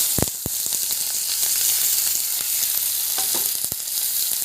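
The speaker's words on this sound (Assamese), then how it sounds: "তাৰপিছত আমি কাটি থোৱা পিঁয়াজ আৰু জ্বলাখিনি কেৰাহীত দি দিম" Chopped onions and chilies fry hard in a wok after potatoes, making a loud continuous sizzle with a few metallic clanks and scrapes from stirring near the start and end.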